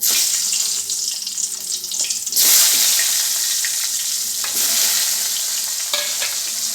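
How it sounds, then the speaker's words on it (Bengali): Chopped onions added to hot oil, a loud close hissing sizzle that surges sharply as more onion goes in, then settles into a steady frying roar with occasional stirring scrapes. "এবার আমি এই যে কেটে রাখা পেঁয়াজগুলো সব আস্তে আস্তে দিয়ে দেবো তেলের মধ্যে"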